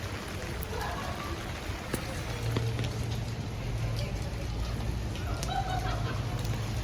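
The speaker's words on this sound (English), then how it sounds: "It was just a light drizzle" A light drizzle falls on a street in central Texas on a rainy Saturday morning, a steady soft hiss and patter that runs throughout, with faint bird calls and scattered small drips.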